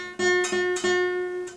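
An acoustic guitar chord strummed several times in a loose rhythm, each strum ringing out clearly and close up.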